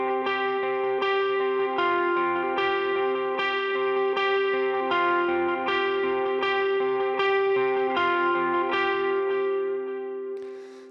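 A rhythm guitar plays a repeating intro line in a dotted-eighth pattern through effects, chorus and echo trailing each note, with bright sustained tones that hold steady and then fade at the end.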